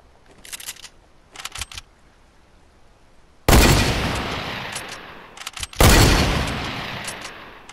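Gunshots ring out in the video game Fortnite: a few faint distant bursts first, then two loud, close booming shots with long decaying tails.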